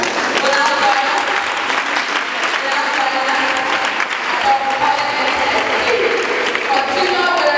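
A crowd of students and guests at a girls' health summit at a senior high school in Obuasi gives sustained, loud applause, a continuous dense clatter of many hands holding steady throughout.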